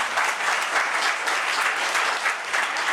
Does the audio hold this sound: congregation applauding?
yes